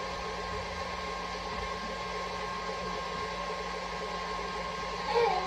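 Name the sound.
electric mixer running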